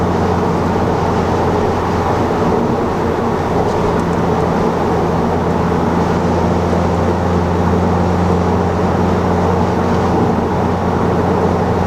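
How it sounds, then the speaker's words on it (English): Steady broadband road roar inside a moving Volkswagen Golf GTI Clubsport 40 Years edition with the resonator deleted and a straight-through 2.5-inch pipe, tyre noise dominating with a low engine hum underneath, continuous and even throughout. "Over the tyre noise, there's not really too much engine noise intruding into the cabin anyway."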